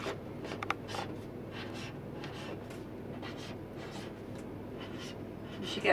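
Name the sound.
writing the name Kelly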